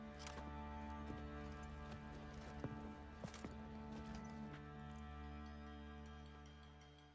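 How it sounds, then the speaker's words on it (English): Horse hooves clip-clop faintly in The Witcher video game, a few irregular knocks scattered over a quiet, steady tonal background. "I just came here to show my horse."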